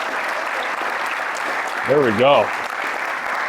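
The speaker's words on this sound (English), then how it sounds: "give a nice round of applause" Audience applause at a talk to youth in a former middle school, a steady wash of clapping throughout with a short spoken phrase over it near the end.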